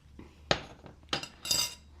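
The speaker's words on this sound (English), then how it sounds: "So and give the pongal a good mix." A spoon clinks against a metal pot while mixing tadka into sweet pongal, giving three separate close scraping knocks spaced across the moment, with a quiet kitchen between them.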